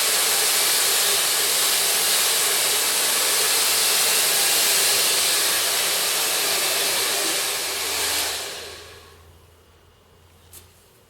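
A hair dryer blows long curly hair with a loud, steady rushing hiss for about eight seconds before it switches off and fades to a quiet room.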